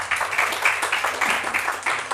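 Audience applause at a Hindi shayari poetry recital, a steady round of clapping from a gathered crowd, loud and continuous throughout.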